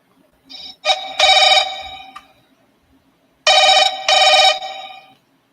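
A telephone rings on an outgoing cold call to a property seller: two bursts of electronic ringing, a pause, then two more, loud and clear against near silence.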